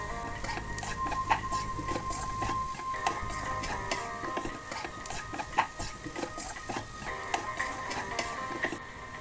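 Potatoes are stirred in a pan with fried garlic-ginger paste for dhaba-style dry aloo dum, giving irregular light clicks, taps and scrapes of a spoon against the pan at close range over a soft background hiss.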